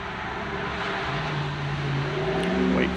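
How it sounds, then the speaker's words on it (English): A truck drives past a home garden, its engine a steady droning whir that swells gradually and grows loudest toward the end, with no voices over it. "Wait for the truck."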